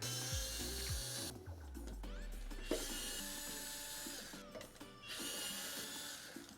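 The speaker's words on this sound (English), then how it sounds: "So let's go ahead and remove the cover." Screws being backed out of the plastic cover over an e-bike's speed sensor, a run of small ratcheting mechanical clicks and scrapes, close and steady with brief pauses, no talking.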